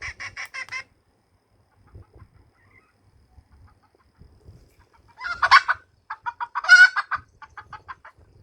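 An electronic rooster crow plays in short bursts: a brief burst at the start, then, after a quiet gap, a louder two-part crow near the end.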